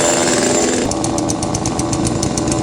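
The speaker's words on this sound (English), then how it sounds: "this is a pretty handy little chainsaw" A small chainsaw engine runs steadily and loudly nearby, a continuous buzzing drone with no talking.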